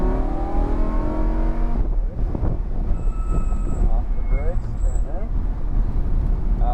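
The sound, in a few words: car accelerating on a racing track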